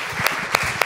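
Audience applause for someone being welcomed onstage at a technology talk, a steady wash of clapping throughout with a few louder sharp claps standing out.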